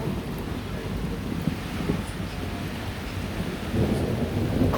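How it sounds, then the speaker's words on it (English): Steady rain pours throughout a thunderstorm, with low rumbling thunder and gusts of wind building louder toward the end, heard from the safety of a home with no voices. "we seem to be getting away from the thunderstorm"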